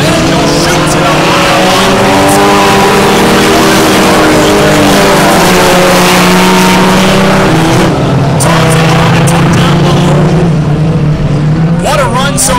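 Four-cylinder class race cars at Valley Raceway roar loudly and continuously down the backstretch during a feature race, engines droning and rising in pitch as they pass close by, with a commentator talking over the noise.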